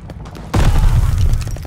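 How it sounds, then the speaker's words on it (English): A loud, close bomb explosion in the video game Call of Duty Vanguard erupts suddenly after a quiet stretch and rolls on as a heavy, sustained low rumble. "Bombs away."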